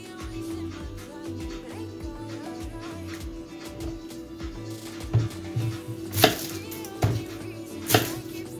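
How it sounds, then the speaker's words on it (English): Fresh spices are chopped with a knife on a board in a home kitchen: soft, irregular taps at first, then several sharper, louder strikes near the end, all close and fairly quiet. "How I wish you could smell the spices that I'm busy chopping now."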